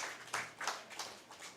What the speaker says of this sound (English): Let us give a round of applause to him